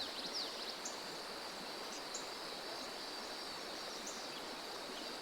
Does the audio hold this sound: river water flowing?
yes